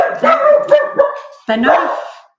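A dog barks loud and close: a run of four quick, sharp barks, a short pause, then one longer, drawn-out bark that fades away.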